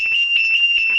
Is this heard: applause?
no